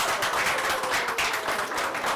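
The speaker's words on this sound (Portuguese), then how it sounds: "Salve de palmas pro senhor Lázaro." An audience claps briefly in a dense, even burst of applause during a technical talk on electrical grounding. The clapping is steady and fairly loud throughout.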